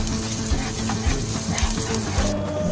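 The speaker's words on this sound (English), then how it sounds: "We need to fry this until it becomes soft and tender." Ingredients for spicy poha frying in a pan, a loud continuous sizzle with steady hiss and bubbling crackle that runs throughout, close up with no talk.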